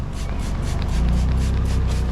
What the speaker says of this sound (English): go ahead and spray the cleaner all on here,